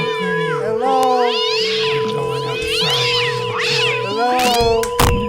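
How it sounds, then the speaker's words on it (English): A cat meows repeatedly in long, wavering, whiny calls over a steady electronic tone, with some caterwaul-like stretches and sharp bursts near the end. "There's a kitty in my computer."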